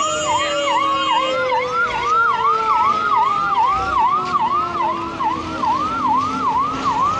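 Fire brigade vehicles arrive at a major industrial fire in Anandnagar MIDC, Ambarnath, with a loud wailing siren cycling steadily throughout while a second siren tone sweeps slowly beneath it, close and continuous with no talk.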